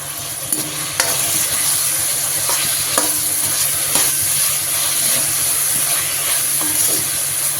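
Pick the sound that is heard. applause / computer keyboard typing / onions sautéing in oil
onions sautéing in oil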